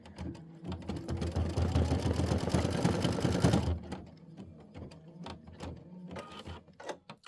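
A domestic embroidery machine stitches out a Kimberbell winter quilt block, with a dense, rapid, mechanical chatter for several seconds, then slowing into separate sharp clicks and taps as the needle moves between sections.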